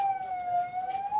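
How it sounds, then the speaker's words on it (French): An ambulance siren wails in Rafah, one loud steady tone that swells slightly, with faint background noise underneath. "Sirènes retentissantes, les ambulances évacuent les victimes à l'hôpital An-Najjar de Rafah."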